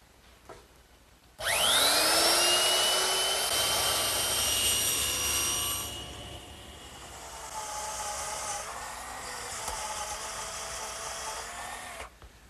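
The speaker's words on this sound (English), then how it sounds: "I'm just going to use a 1/4 inch rounding over bit, and I'm ready to do that now." A router fitted with a 1/4 inch round-over bit shapes the edge of a wooden bookcase part, giving a loud, steady high whine that starts abruptly, runs about ten seconds with a shift in tone midway, then cuts off.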